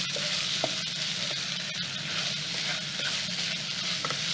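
Food cooking in a pan, a continuous close sizzle and hiss with light stirring scrapes and occasional soft utensil ticks, no talking.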